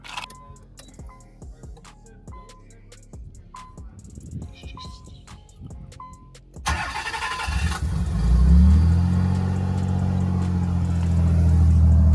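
A Nissan Z32 engine cranks and fires up partway through, a steady idle rumble then holding loud and close after a stretch of faint clicking and ticking beforehand.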